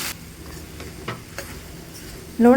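Okra stir-fry (bendekayi palya) stirred and mixed in a hot pan, giving a low steady sizzle broken by a few soft scraping strokes, then a brief louder clatter right at the end.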